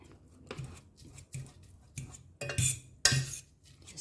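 Mashed green peas being stirred and mashed with ground pepper in a bowl, a series of utensil clinks and scrapes in uneven bursts, louder strokes near the end, no talking.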